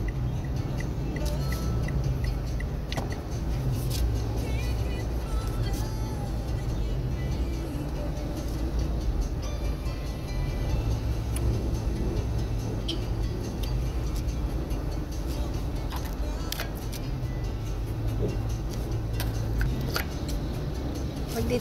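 Road traffic rumbling past near a church in Muzon, a continuous low hum of cars and buses with occasional passing swells and faint chirps overhead, no voices standing out.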